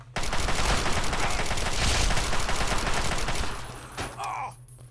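Sustained rapid assault rifle fire in Fallout 3, loud and dense for several seconds over a low steady hum, then trailing off into a couple of distant shots.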